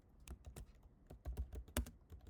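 Typing on a computer keyboard, close and clear, with quick irregular clicks and keystroke bursts in a quiet room, no voices present.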